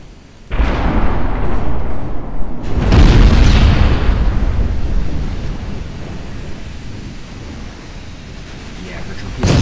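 A torpedo detonates against a battleship in a World War II naval game on an Italian campaign off the African coast: a sudden loud boom at half a second, then a second, heavier roaring surge of blast and spray that slowly tails off into a sustained rumble.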